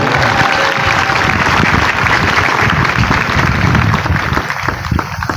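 A church congregation at an evangelisation campaign applauds the Lord with loud, sustained clapping from a large crowd that fills the space and eases slightly near the end.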